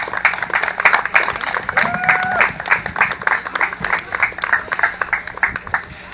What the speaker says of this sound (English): So give him a round of applause, guys.